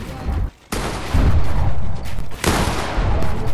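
Gunfire in a Fortnite match: loud bursts of shots that cut out briefly near the start and again midway, then resume with heavy low booms and cracks, close and dense throughout.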